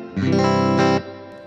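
Clean tone from a Hardluck Kings Bombshell electric guitar on the neck and middle pickups: a chord strummed twice, ringing full and sustained with chorus-like shimmer, the second strum fading out gradually.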